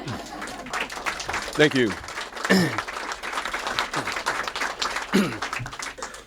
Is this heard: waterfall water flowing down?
no